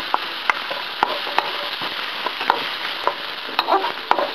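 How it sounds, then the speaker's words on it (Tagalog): Garlic and onion sauté in a pan for shrimp curry, a steady soft sizzle broken by regular clicking taps of a utensil stirring against the pan, close and with no voices. "So, pagka medyo fragrant na yung ating garlic, o medyo brown na siya, i-add natin yung ating onion."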